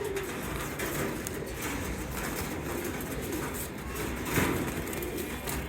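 Faint pigeon cooing drifts through steady background noise, soft and somewhat distant, with a low hum throughout.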